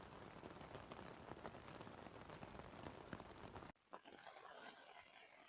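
Steady rain drums on the fabric of a Cloud-Up Pro tent in the mountains, a dense, even patter close overhead, briefly dropping away near the end before the soft pattering resumes, with no voices.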